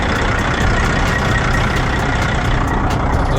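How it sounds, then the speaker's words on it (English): A heavy truck's Cat C15 Acert diesel engine idles loudly and steadily nearby, a dense low rumble with a faint rhythmic ticking on top. "truck's super loud"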